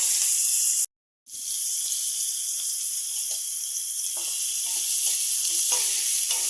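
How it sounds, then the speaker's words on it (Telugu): Onions and green chillies fry in a pan with a loud, steady close sizzle and hiss, briefly cut off once, then resuming with faint stirring clatter underneath. "ఆనియన్స్ కూడా వేయాలి. అలాగే గ్రీన్ చిల్లీ వేసుకుందాం."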